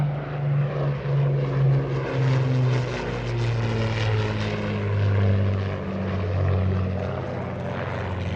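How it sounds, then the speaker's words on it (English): Avro Shackleton four-engine aircraft with contra-rotating propellers, a very noisy patrol plane: a loud, sustained droning propeller roar with steady throbbing engine tones that swell and ease slightly, no voices. "its 4 engines mounted 2 contra-rotating propellers each, making it a very noisy aircraft indeed"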